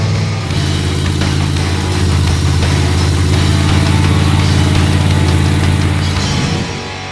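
Big block V8 in a Chevrolet Impala with EFI, rumbling steadily while cruising, a loud, continuous low drone heard from close by without any talking.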